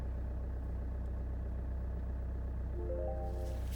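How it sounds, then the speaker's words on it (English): A 2014 Vauxhall Insignia's engine idles steadily just after starting, a low continuous hum heard up close with a brief rising tonal chime near the end and no talking. "start the car"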